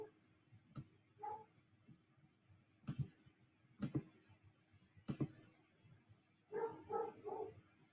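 A dog barks in short clusters somewhere in the room, fairly faint, with sharp clicks and taps between the bursts.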